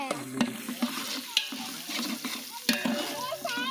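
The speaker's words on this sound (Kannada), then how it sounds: "ಇದು ಸ್ವಲ್ಪ ಫ್ರೈ ಆಗಬೇಕು. ಹಸಿ ವಾಸನೆ ಹೋಗೋ ತನಕ ಫ್ರೈ ಆಗಬೇಕು." Spices frying in hot oil in a pan, with a soft continuous sizzle broken by repeated scraping and clinking stirs from a utensil, close and fairly quiet.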